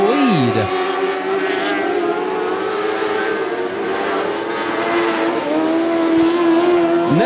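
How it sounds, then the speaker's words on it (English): High-revving motorcycle-engined dwarf race car screaming down the backstretch at Grays Harbor Raceway, a loud continuous whine rising and falling with the throttle, with other engines droning along and no talk over it. "Next up will be the white flag for Josh King as he powers down the backstretch in that motorcycle-powered engine. You can hear him screaming all the way up here to the booth."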